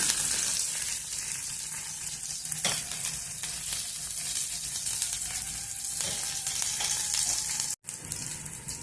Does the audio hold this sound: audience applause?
no